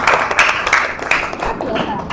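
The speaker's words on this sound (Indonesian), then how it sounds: "Tepuk tangan buat kelompok" An audience in a classroom claps for a group of students, a short burst of scattered applause close by, with a voice speaking over it.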